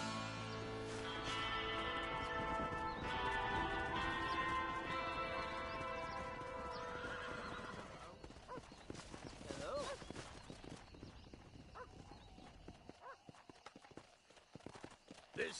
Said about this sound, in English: This steed looks right fetchy, I don't mind telling.